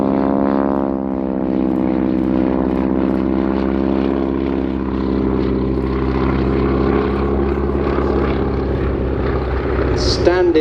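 A warbird propeller aircraft flies a display at an airshow, its loud, steady engine drone and propeller hum sliding slightly in pitch as it passes, with a commentator talking over it.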